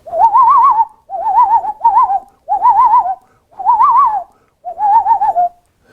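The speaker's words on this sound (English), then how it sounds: "the next one, number 3, that a loon will do is the one you hear most often. It's called the tremolo" A loon's wavering tremolo call in six separate quavering phrases with short gaps between them, loud and clear with no other sound.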